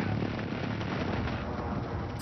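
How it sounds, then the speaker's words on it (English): Airstrike explosions in a shooter video game, a continuous low rumbling barrage of blasts, loud and dense throughout with no clear gaps. "I have a airstrike coming in on us."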